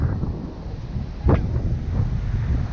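Strong wind buffets the microphone on a beach by the water, with a continuous low roar and a sharper gust in the middle.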